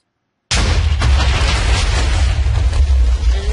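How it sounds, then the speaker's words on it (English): A TNT trap detonates in Minecraft after a moment of silence, one sudden loud blast that cuts in and rumbles on as a sustained, noisy roar of debris for several seconds. "it makes a pretty decently sized explosion"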